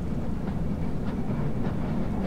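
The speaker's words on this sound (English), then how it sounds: "We're continuing our train ride" A continuous rumbling train ride in the Half-Life Black Mesa video game, with a steady loud rolling roar and faint rhythmic rail clatter, no voices.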